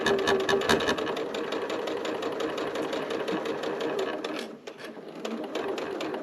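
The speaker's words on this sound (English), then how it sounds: "And I do some back stitching at that little connector strap." A sewing machine runs steadily back stitching a small zipper coin purse made from fabric scraps, a close, continuous mechanical whir that dips briefly near the end, with no talking.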